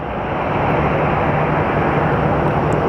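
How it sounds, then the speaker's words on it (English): A Boeing 737 MAX at Phoenix Sky Harbor Airport gives off a loud, steady broadband jet roar, sustained and unbroken throughout with no talking. "And that is a 737 MAX."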